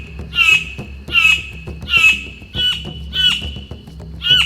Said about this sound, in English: the male begins trying to attract a female with a loud call